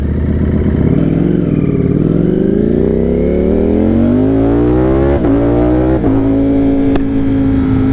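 A 200+ horsepower motorcycle accelerates hard on a commute, the engine note climbing steadily through the gears with brief dips at each shift, loud and close with no talking.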